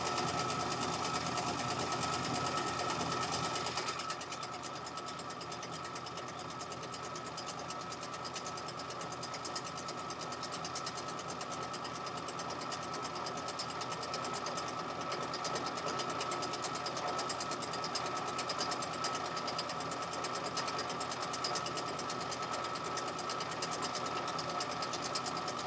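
A sewing machine runs steadily and continuously for the whole stretch, a sustained mechanical whir with a dense, even texture and a slight change in tone after the first few seconds, loud and close with no talking over it.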